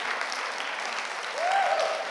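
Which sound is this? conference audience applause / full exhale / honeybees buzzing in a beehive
conference audience applause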